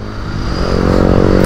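A Royal Enfield Continental GT 650 motorcycle engine runs close by, building from a rumble into a louder, rising rev with a rough, throbbing tone.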